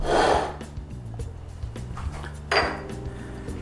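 A bowl is taken out in a kitchen, with dishes clinking and knocking together in a few bright bursts, near and fairly loud, followed by lighter rattling and scraping, no talk.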